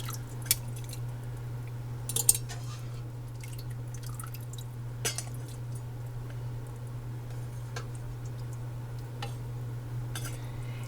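Chicken and dumplings being ladled with a slotted spoon and dipper into canning jars, faint scattered drips, clinks and soft wet squishes over a steady low hum, with no voices.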